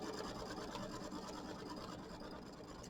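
A sewing machine hums steadily and close, stitching spider web tack-down quilting in ivory thread on a Kimberbell mini quilt, a continuous rapid whir with no pauses or voices.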